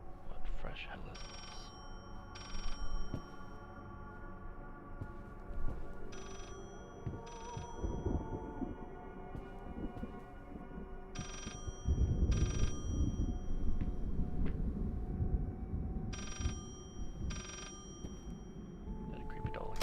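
Telephone ringing in the horror video game Layers of Fear, repeated ring bursts in a steady on-off rhythm over a dark ambient background with rumbling, while someone talks intermittently.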